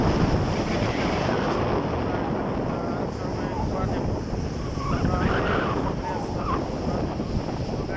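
Large waves roll in from the Arabian Sea at Dubai under strong gusty wind, a loud constant roar of surf mixed with heavy wind buffeting the microphone throughout.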